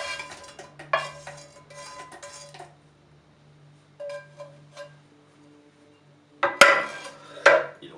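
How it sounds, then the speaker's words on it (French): Cooked chorizo is scraped from a pan into a container with a spatula, giving bursts of scraping and clinking metal and utensil contact separated by quiet pauses, ending in sharper knocks. "Il verse alors le chorizo à l'aide d'une spatule dans la boîte"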